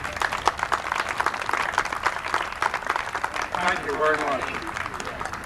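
Round of applause from a crowd at a 1994 men's baseball championship ceremony, steady clapping from many hands under a voice speaking through it.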